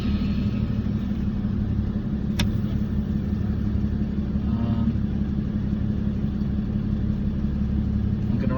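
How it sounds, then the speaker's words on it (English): A gully sucker truck with a boom, driving through central London: a steady, heavy engine drone and road rumble heard from the cab, with a brief sharp click partway through. "It's actually a gully sucker, which is a boom machine, basically."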